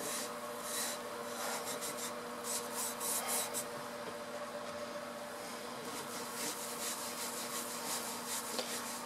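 Cleaning paste being rubbed onto a clothes iron, a steady back-and-forth scrubbing and rubbing with rhythmic strokes over a faint background hum.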